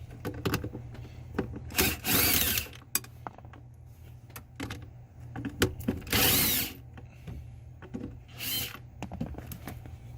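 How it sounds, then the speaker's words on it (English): On a 1999–2003 7.3L Powerstroke, a 7mm socket works the PCM bolts loose in several short rattling ratchet bursts between quieter handling clicks and knocks, close and moderately loud. "You'll need a 7mm socket to remove the PCM."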